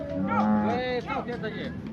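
A close dairy cow moo at the Modnimb cattle market, a long low bellow rising in pitch, fills the first second, then a brief second call follows.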